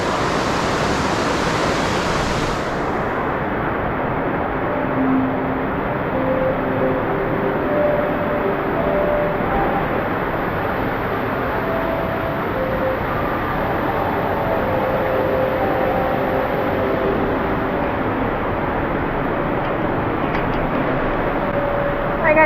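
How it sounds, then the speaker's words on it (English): Water pours down from the volcano at Volcano Bay water park, a loud, continuous roaring rush heard up close that fills the whole stretch. A faint voice is barely audible underneath. "the main part where the volcano comes, all the water comes down."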